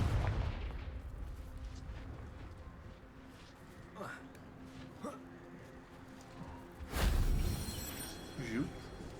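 Confringo spell blasts in Hogwarts Legacy land as a few booming bursts, with one loud explosive hit near the end over a rumbling game soundscape, with a voice speaking alongside.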